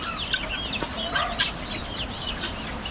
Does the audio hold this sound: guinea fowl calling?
yes